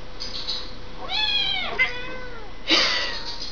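A munchkin kitten meows twice in a rising, drawn-out cry, then gives a shorter sharp mew near the end, close by with a faint background hiss.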